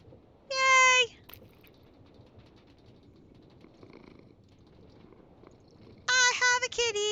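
A cat in Minecraft meows twice, one short clear meow near the start and another several seconds later, with quiet ambient game sound between them.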